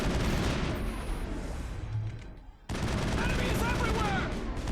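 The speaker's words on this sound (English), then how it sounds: "Open fire. Open fire!" Rapid gunfire from a firefight in the video game Mass Effect, dense bursts of shots that break off briefly into a short lull, then resume at full intensity.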